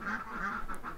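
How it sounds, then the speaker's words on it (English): A duck quacks repeatedly just outside a window, a rhythmic run of nasal squawks at moderate volume coming through the glass, with no voices. "the duck squawking right outside my window"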